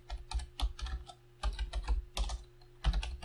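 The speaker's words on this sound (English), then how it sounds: "sorry, I'm typing" Quiet computer keyboard typing in uneven bursts of quick keystrokes, with short pauses between runs.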